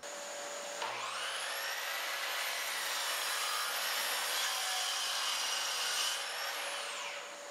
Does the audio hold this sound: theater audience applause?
no